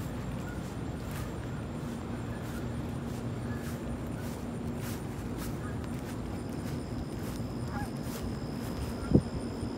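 Canada geese fly off while a border collie drives them away, their honks faint and distant in scattered bursts over a constant outdoor noise bed, with a brief sharp click near the end.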